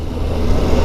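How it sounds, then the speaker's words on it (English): A Kawasaki ZZR600 motorcycle engine turning over on the electric starter at full throttle after storage, a brief loud churning crank with a rough, pulsing low rumble and a sharp burst at the end. "tried the starter with a full throttle"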